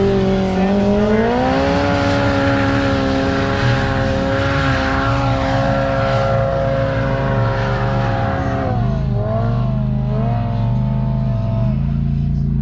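A 2024 Polaris Pro R side-by-side fitted with an EVO big turbo and 35-inch sand tires roars through sand, its engine note rising and falling with shifting revs, loud and continuous throughout.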